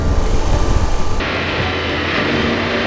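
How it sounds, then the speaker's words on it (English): A loud Triumph Tiger 1200 motorcycle engine with a T-plane crank roaring at high revs, then easing into a steadier drone as the rider shifts. "Listen to the sound of the engine."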